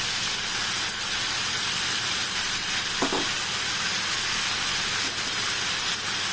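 Country chicken fries in hot oil in a pan as ground spices such as ginger powder and Kashmiri chili powder are tipped in, giving a dense, continuous hiss and sizzle with one faint knock, close and steady with no talk.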